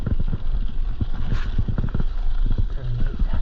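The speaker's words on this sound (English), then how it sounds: "There's a horse right there." A horse walks on smooth gravel nearby, its hooves making a steady clip-clop rhythm of close, distinct footfalls, with a brief neigh-like sound partway through.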